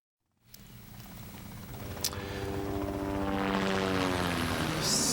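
A Global One news traffic helicopter's rotor and engine rise out of silence into a steady, loud, pulsing drone that grows fuller and continues unbroken, with no talk over it.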